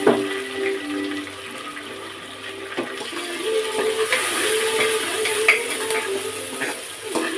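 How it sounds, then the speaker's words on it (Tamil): Curry leaves, coriander, tomato and big onion sautéing in oil for Chettinad mutton chukka, a continuous close sizzle with scraping stirs and a few clicks of a utensil against the pan, growing busier partway through, no talking. "கருவேப்பிலை, மல்லித்தலை, ஒரு தக்காளிங்க, பெரிய வெங்காயம். இதெல்லாம் நல்லா எண்ணெயில் போட்டு வதக்கலாம்."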